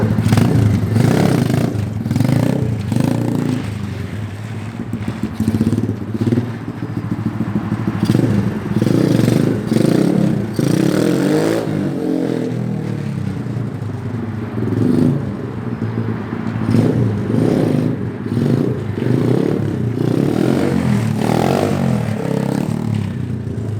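SSR 125 pit bike engine revving hard and steadily through a wheelie, a loud, continuous buzzing drone that rises and dips with the throttle, with some clatter mixed in and no talking.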